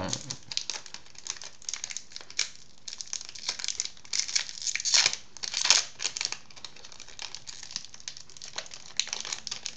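Trading card booster pack wrappers from an Ordre du Chaos display crinkle and tear in close, irregular bursts of crackling plastic, with brief rustles between and no talk.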